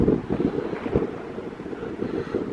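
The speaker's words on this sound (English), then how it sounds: "it's so windy, it's blowing the camera off my hand." Strong gusting wind buffets a handheld camera in the open hills of the Brecon Beacons near Llyn y Fan Fach, a loud continuous roar with heavy low rumbling thumps, no voices.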